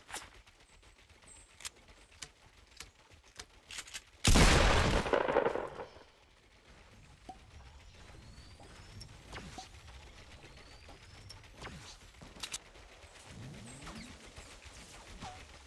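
Gunfire in the video game Fortnite: one loud, heavy blast burst lasting about two seconds, then quieter scattered pops and clicks over low ambient game sound, with birdlike coos in the background.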